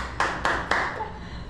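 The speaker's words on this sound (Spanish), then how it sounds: "Aplausos." People at an embassy welcome clap in three sharp, spaced bursts close by, then the sound fades into quiet room noise with faint voices.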